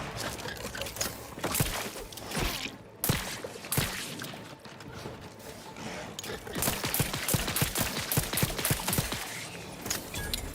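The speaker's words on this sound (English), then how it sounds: "I was just gonna pop out the bio gun so I can use some bio ammo." A bio gun firing in The Outer Worlds 2 video game, irregular sharp shots and rapid bursts, growing into a fast rattling volley in the second half, with brief pauses between.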